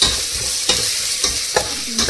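Ginger garlic paste and turmeric fry in a pan while a spoon stirs, making a steady high sizzle with a few crisp scraping strokes spaced about half a second apart, close up, with no voices.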